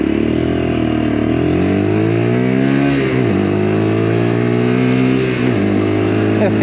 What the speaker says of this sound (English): you are getting a nice noise out of it when you pick the speed up.